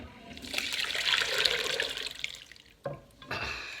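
Garlic sauce poured from a pan over lamb in a slow cooker, a steady trickling, splashing stream of liquid close by, lasting about two and a half seconds before it stops, followed by a couple of brief knocks and a short final splash.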